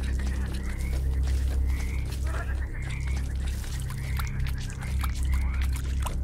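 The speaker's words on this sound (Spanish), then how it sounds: "Ah, son ranas." Frogs croaking in a swamp in the video game Lovecraft - The Land of Pain, with repeated short chirping croaks over a constant trickling, pouring water bed.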